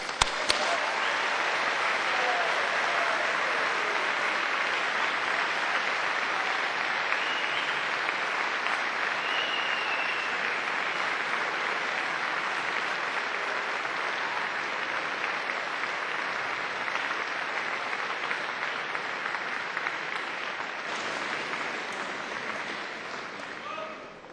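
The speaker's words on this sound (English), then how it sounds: "give them a really enthusiastic round of applause." Graduating engineering and architecture students at a university ceremony give a long, enthusiastic round of applause for their families and friends, a dense steady roar of clapping that fills the hall throughout and eases slightly toward the end.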